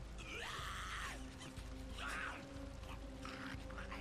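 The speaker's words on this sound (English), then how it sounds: "Oh, I think I burnt them. Can you hear them screaming?" Burnt freakers in the Days Gone video game scream and wail, with two rising, strained cries at moderate distance over a low steady game hum, faint overall and with no talk.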